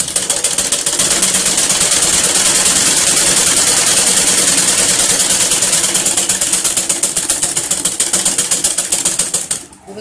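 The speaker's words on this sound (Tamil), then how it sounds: "இப்போ கீழே வந்து மடிச்சு தைச்சாச்சு" A sewing machine stitches a folded skirt hem on a cotton underskirt, running fast and continuous with a loud, even mechanical whir and rapid needle ticking. It slows and stops in the final moment.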